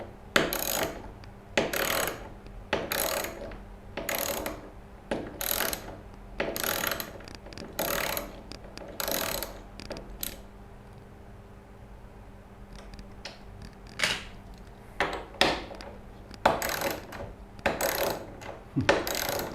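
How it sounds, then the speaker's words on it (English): A speed wrench ratchets in quick repeated bursts of clicking, close and crisp, with a brief quieter pause midway before the rapid clicking resumes. "speed wrench just got to go fast"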